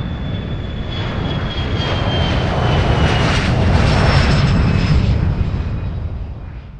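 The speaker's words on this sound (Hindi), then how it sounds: "कैप्टन हल्की मुस्कान के साथ थ्रॉटल आगे बढ़ाते हैं और कुछ ही सेकंड में विमान" China Airlines Flight 642 airliner engines at full takeoff throttle on runway 21, a loud roaring rumble that swells and peaks mid-way with a thin whine, then slowly fades as the plane pulls away.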